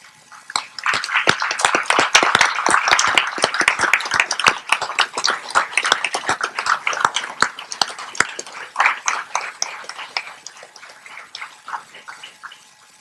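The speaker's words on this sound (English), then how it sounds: "why don't we give your supporters a round of applause." Applause at a veterinary school white coat ceremony, with many individual hand claps audible in a brisk, uneven patter that rises loud, then thins and fades over the final seconds.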